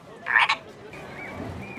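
A frog croaks once in a short loud burst, followed by fainter tonal chirps and low background murmur, outdoors at an amusement park.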